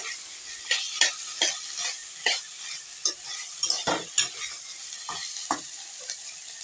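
Taro leaf greens (kachu shaak) frying in a pan, with a steady sizzle broken by a dozen or so sharp, rhythmic scrapes and knocks of a spatula stirring close by.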